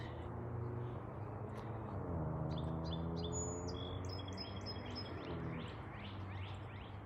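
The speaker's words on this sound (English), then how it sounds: "Listen to those birds sing." Several birds chirp and twitter in quick, overlapping calls above a steady low background rumble, continuing throughout.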